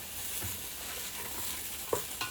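Mushrooms cooking down in a pan with frylight spray give a soft, steady sizzle with occasional stirring scrapes and a couple of brief louder crackles near the end.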